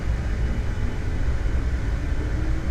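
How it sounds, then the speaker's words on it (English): Aerosoft CRJ jet engines spooled up to takeoff power in a flight simulator, a steady loud roar and whine held constant throughout. "Takeoff power has been set."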